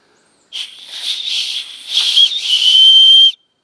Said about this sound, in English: this actually has a whistle as part of this